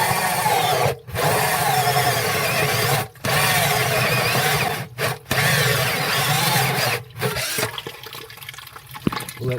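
Power drill cutting into a sump pump inlet drain line by a basement foundation wall, loud continuous grinding in long runs with brief pauses, water trickling nearby.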